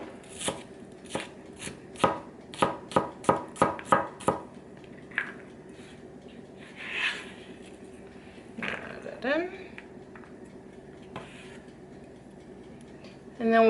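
A knife chops onion on a cutting board in a home kitchen, a quick series of about a dozen sharp, close knocks in an even rhythm, followed by quieter handling sounds and a voice talking.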